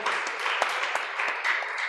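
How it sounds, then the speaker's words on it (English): Sustained audience applause at a devotional gathering of community leaders, a steady broadband wash of many hands clapping throughout, loud and continuous with no pauses. "Please keep clapping."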